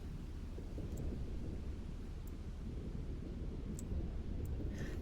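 A thunderstorm in the storm-chasing video game OUTBRK, heard as a steady, loud low rumble with a windy roar running throughout, alone without voices.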